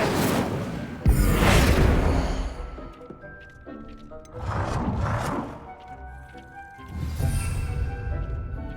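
The Incendio fire spell in Hogwarts Legacy bursts out in three separate whooshing flame blasts, each rising and fading over about a second, with quieter game ambience between them.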